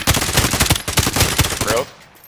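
Rapid automatic gunfire in Call of Duty: Modern Warfare, a loud close burst of sharp repeated shots that cuts off, followed by a brief quiet tail.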